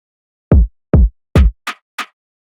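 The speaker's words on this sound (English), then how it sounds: "And the kick we add just sounds like this." A drill beat kick in FL Studio: three heavy, booming low hits with downward-sliding pitch, followed by two shorter, higher thumps, loud and close with no other sound.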